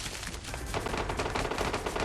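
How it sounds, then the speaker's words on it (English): Rapid gunfire rattles continuously at a loud, dense level, the shots running together into a sustained barrage with no talking over it. "who is shooting like crazy?"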